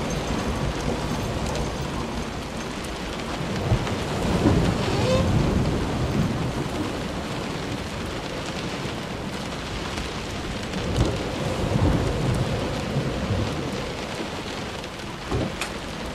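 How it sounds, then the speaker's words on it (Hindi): A steady downpour with rolling thunder from the video game Close to the Sun, the rain hissing continuously while low rumbles swell twice, loud and close, with no talk. "हल्का तूफान है।"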